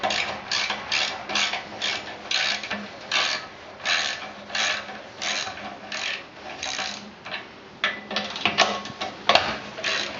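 A hand ratchet works loose the muffler bolts on an Onan B43G engine, giving a loud, close, rhythmic run of clicking strokes with brief pauses between bursts. No voices are heard.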